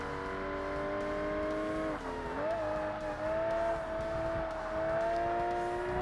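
A race car engine in Forza Motorsport drones at high revs, its tone holding steady, dipping briefly around a gear change or corner and then climbing again, loud and close with no talk.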